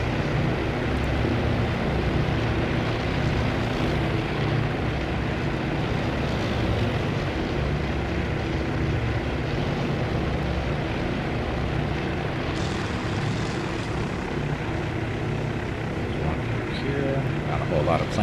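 Propeller planes launch from a World War II carrier task force at the Battle of Midway in the naval strategy game Task Force Admiral. Their steady engine drone runs continuously beneath talking, with wave-like wash throughout.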